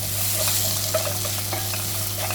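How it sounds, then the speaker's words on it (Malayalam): Egg curry with potatoes being stirred in a pan with a coconut milk base, a steady close sizzle and frying hiss with soft scraping strokes of the spoon running throughout, no talking. "നന്നായിട്ട് ഇളകി കൊടുക്കാം."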